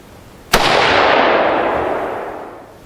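A single loud, close gunshot from an AR-15 rifle fitted with a muzzle brake, a sharp crack followed by a long booming echo that fades over two seconds.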